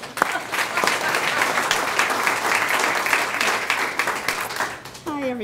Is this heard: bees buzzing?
no